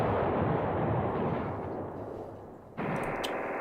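Artillery fire in the Command Ops 2 video game, a steady, dense rumble of distant guns that dips briefly and then swells again with a fresh burst, and no talking.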